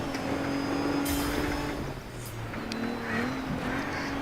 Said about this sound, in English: Drifting in a lorry, that's impressive